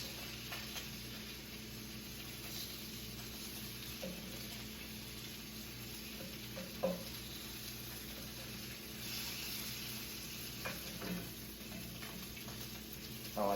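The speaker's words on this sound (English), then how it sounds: "we're starting to get some good frying on these things" Food fries in a pan for a Christmas dinner, a faint steady sizzle and crackle with a few small pops, heard alone at low level.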